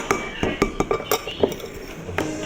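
A utensil stirring a salted egg mixture in a bowl, giving a run of irregular clinks and scrapes against the dish, close and fairly loud with no talking.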